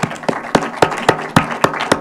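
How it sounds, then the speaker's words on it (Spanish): A small audience claps at a workshop on diabetes and health podcasting, sparse and uneven with about eight separate sharp claps over two seconds, close and fairly loud with no talk. "el primer aplauso se lo ha llevado Javier"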